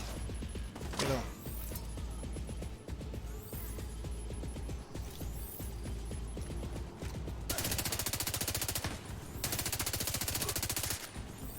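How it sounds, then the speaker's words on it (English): Sustained gunfire in The Division 2 at a Coney Island haunted house, bursts of automatic fire running throughout with a denser, louder rattling stretch toward the end, no talk over it. "He's shooting at me."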